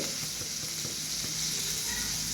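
Masala paste of coriander powder, chilli and ginger paste frying in a pan on a low flame while being stirred, a steady soft sizzle with faint scraping strokes of the spoon, close and continuous, no talking.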